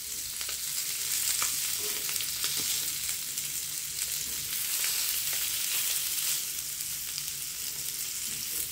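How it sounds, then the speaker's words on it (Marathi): Ladyfish coated in rava fries in a pan, giving a continuous close sizzle with light crackles and faint scraping as the fish is turned over, with no voices. "आता आपण हे फिश पलटी करून घेऊया"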